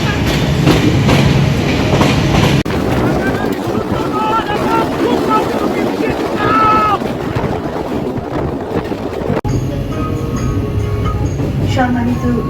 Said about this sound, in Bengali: সাতশো পঁচিশ সুন্দরবন অল্প সময়ের মধ্যে প্রবেশ করবে এই প্ল্যাটফর্মে